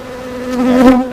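Honeybees buzz loudly and close at an opened hive during a routine inspection with a smoker, a steady droning hum that swells slightly as bees pass near.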